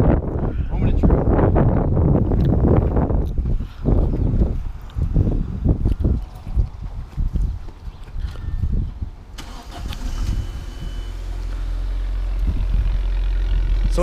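A 2008 Audi 2.0T engine, just treated with Seafoam, cranks with repeated chugging turns, then catches and settles into a steady low idle, loud and close.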